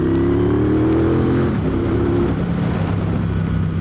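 A motorcycle with straight-cut gears and slash-cut exhaust pipes accelerates up close, its loud engine note climbing with a whining gear tone before settling into a rough, steady roar.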